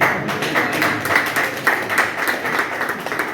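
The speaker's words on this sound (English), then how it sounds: "I'll clap hands." Hands clapping among a group at a one-day community workshop in Ghana, a steady run of quick, fairly close claps lasting a few seconds.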